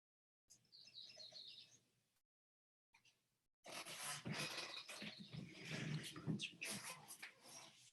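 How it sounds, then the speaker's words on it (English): Bird-shaped chime clock sounding the hour with a recorded bird call: a short bright chirping burst, then a gap, followed by a louder, busier stretch of bird song in a quiet indoor room. "I have one of those bird clocks"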